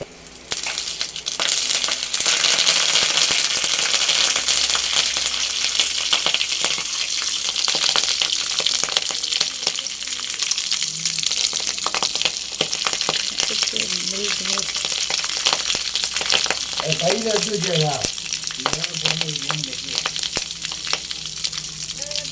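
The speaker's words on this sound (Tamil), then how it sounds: "கீரையை பொரித்து எடுக்க போகிறோம்" Spinach leaves frying in hot ghee, giving a steady loud sizzle and crackle throughout with occasional stirring and a few faint voices in the background.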